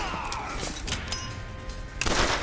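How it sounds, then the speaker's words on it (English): Gunfire in the video game Bioshock Infinite, a few sharp shots and bursts spread through the moment over a busy game soundscape, moderately loud and close, no voices. "I'm missing a lot of shots here."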